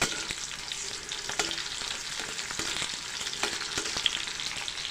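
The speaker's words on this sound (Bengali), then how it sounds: "পেঁয়াজটা একটু ভেজে নিতে হবে।" Onion frying in oil in a pan for a chicken skin and mung dal dish, a steady close sizzle with light stirring scrapes throughout, no voices.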